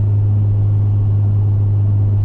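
A manual five-speed Lexus SC300 with 206K miles gives off a constant low engine drone while driving, steady and loud throughout with no speech over it.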